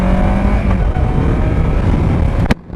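A 2024 Kawasaki Versys 650 sport tourer's engine drones loud and steady with a harmonic whine under heavy wind rush, ending in a sharp burst before dropping quieter.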